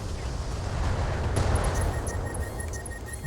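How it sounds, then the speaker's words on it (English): A critical-hit explosion in the modded Battletech game (Roguetech) shuts down a mech: a sustained, rumbling burst of broadband noise with scattered high electronic beeps, filling the whole moment. "That was Critical hit. explosion that shut down the mech."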